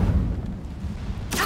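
Incendio fire spell cast in the Hogwarts Legacy video game: a low rumbling bed ends in a sudden loud, bright burst of flame near the close.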